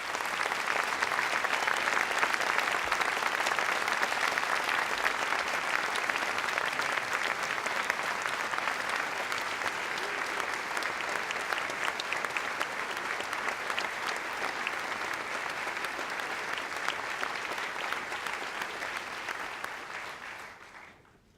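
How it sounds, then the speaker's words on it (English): Sustained applause from an audience at a school opening meeting for a group of students, dense steady clapping for about twenty seconds before tapering off at the end. "Let the whole group stand up and let everybody give you their applause."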